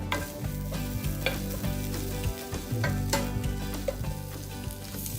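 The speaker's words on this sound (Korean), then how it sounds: "여기에 해바라기유를 두르고 취나물을 넣어서 살짝 볶아줍니다." Chwinamul greens stir-fried in sunflower oil in a pan, a steady sizzle under sharp scrapes and clinks of a utensil against the pan, some of them regular and some scattered.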